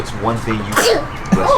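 A child sneezes once partway through, surrounded by close adult speech asking questions.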